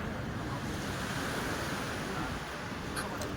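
Sea waves wash continuously along Jomtian Beach in Pattaya, a broad steady rushing hiss with some wind noise, moderately faint and distant, with faint background voices.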